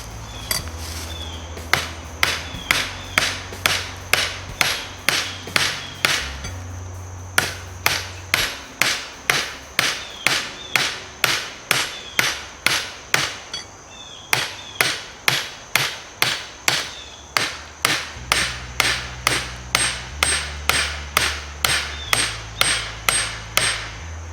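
A scrap of solid copper rod is struck again and again with a hammer on an improvised anvil, sharp metallic blows falling in a steady, fast rhythm with brief pauses, close and loud, no talk.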